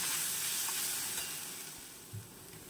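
Mustard seeds frying in a pan of oil for a Bengali masala elephant yam dish; a soft, steady sizzle that slowly fades, with a dull stirring bump near the end.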